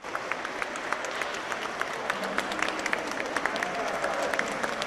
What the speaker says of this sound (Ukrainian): У залі вокзалу прикордонників зустрічають аплодисментами.